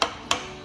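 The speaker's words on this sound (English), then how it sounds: "So I take a little brass hammer." Two sharp metallic taps from a small brass hammer on a Ford F350's 6.0 Powerstroke engine, evenly spaced, each ringing briefly.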